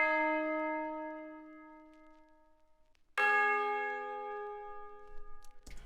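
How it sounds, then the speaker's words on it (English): Tubular bell notes from the SRX Orchestra sound set, played in a beat: a sustained bell chord rings and slowly decays, then a second strike rings out loudly about three seconds in, alone with no talking. "I just went and got a tubular bell within SRX Orchestra"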